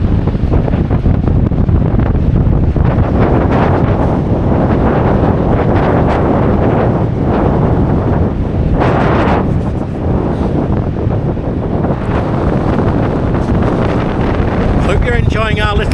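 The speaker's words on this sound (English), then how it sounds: "It's a windy day." Strong wind buffets the microphone steadily on a windy day by the sea at Ayr, a loud continuous roar with gusts, and a voice speaks intermittently beneath it.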